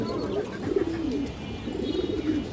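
Several pigeons coo in low, soft, rolling phrases, steady and close throughout with no talk.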